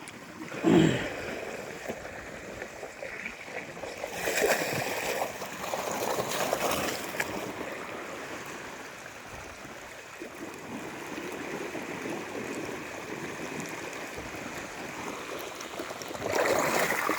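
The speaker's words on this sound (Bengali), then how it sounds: "প্রচণ্ড রকম পানির প্রেশার বন্ধুরা" Water gushes steadily from an ACI drainage pump into a pond, a dense rushing wash with occasional louder splashes.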